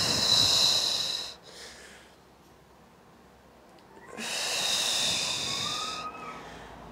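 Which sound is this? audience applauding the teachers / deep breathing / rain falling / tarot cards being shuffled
deep breathing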